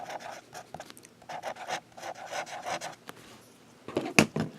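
A Yiren fountain pen nib glides over paper in short, soft scratchy strokes with brief pauses between them, close and quiet, ending in a few slightly louder scrapes.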